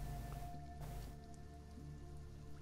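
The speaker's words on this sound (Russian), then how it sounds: "Пошел дождик." Rain falls steadily in the survival video game Sheltered, a soft, even hiss of drops with a faint low hum beneath, quiet and unbroken throughout.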